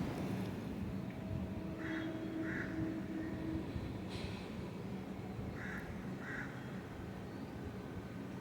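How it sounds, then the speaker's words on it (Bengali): Birds call in two pairs of short, distant cries, separated by a pause, over a steady low rumble, at the Attahas temple grounds in Purba Bardhaman, West Bengal. "কলাকাকলি পাখির গুঞ্জনে সারাক্ষণ মাতোয়ারা করে রাখে"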